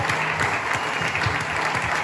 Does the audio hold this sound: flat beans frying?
no